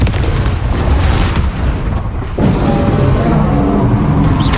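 A Confringo fire spell blasting in Hogwarts Legacy, a loud, dense explosive roar that stays heavy and booming the whole time, with a short dip midway before another burst rumbles on.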